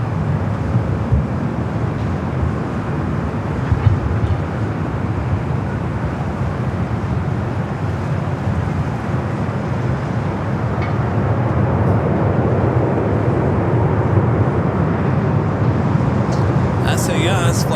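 A Virgin Airbus A350-1000 taxis for takeoff at LAX, a steady low rumble of jet engines heard from a distance under continuous talking.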